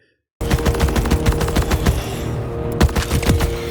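Rapid bursts of gunfire ring out in Borderlands 4, loud and close, with punchy repeated shots rattling in quick succession and a brief pause before firing resumes.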